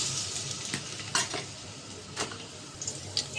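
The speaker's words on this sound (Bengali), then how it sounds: "পেঁয়াজটি একটু আর চিংড়ি মাছটা আর পেঁয়াজ একসাথে ভেজে নেব" Small shrimp and onion frying in oil in a pot, a steady close sizzle with occasional clinks and scrapes of a spoon stirring against the metal.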